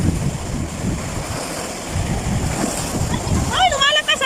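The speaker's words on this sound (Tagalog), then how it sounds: "Ayan, lumalakas yung alon oh." Ocean waves building on a shore, rolling surf and wind rumble with buffeting wind noise on the microphone, and a person's voice rising briefly near the end.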